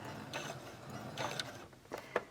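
A home sewing machine stitches backward through felt to lock a back stitch on a carrying case, giving a brief close mechanical whirr with a few rhythmic clicks and no talking.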